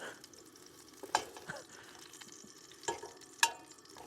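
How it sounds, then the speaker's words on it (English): A spoon chops food in a pan on a stove in a van in snowy mountain wilderness, giving a few sharp scraping clinks over a soft, continuous sizzle. "And I'm gonna chop it up with a spoon."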